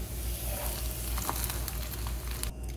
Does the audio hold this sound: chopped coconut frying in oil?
yes